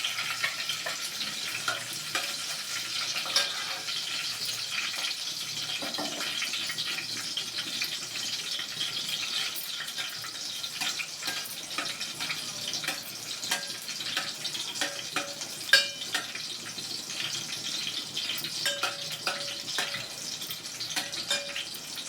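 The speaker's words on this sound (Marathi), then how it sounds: "आता खिचडीला फोडणी देते" Continuous crackling sizzle of green chillies tempering in two spoons of hot oil for sabudana khichdi, close and steady for a long stretch, with scattered sharper pops and no talking.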